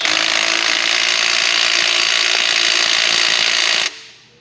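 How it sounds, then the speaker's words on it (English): A 90-degree impact wrench drives a bolt into a 2000 Nissan Pathfinder 3.3 in one loud, continuous rattling burst, then cuts off abruptly and leaves a faint tail. "run it right in with the bolt. That came out with a 90-degree impact"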